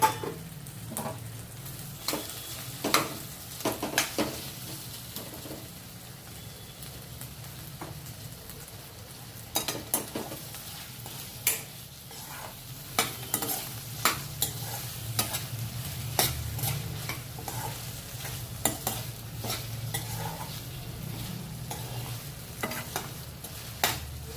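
Potato and tomato curry fries in a pan under a low continuous sizzle, broken by frequent sharp clacks and scrapes of a spoon stirring against the metal.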